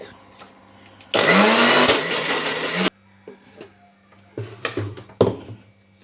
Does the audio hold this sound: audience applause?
no